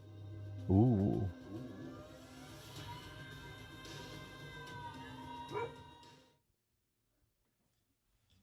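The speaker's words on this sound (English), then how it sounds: "And then a little dog bark at the end." A small dog's yips and barks come from a recording played through a speaker, a loud burst near the start and another short bark later, with a person talking over it before silence.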